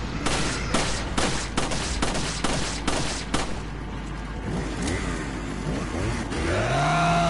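Pistol shots crack out in rapid succession in the Resident Evil 4 video game, loud and close, a dense volley over the first few seconds that gives way to rumbling game effects and a rising engine-like drone.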